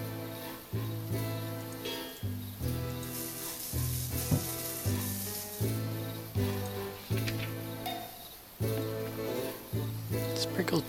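Ingredients sizzle and fry in a frying pan, a steady crackling hiss running throughout beneath rhythmic background music, with some stirring noises mixed in.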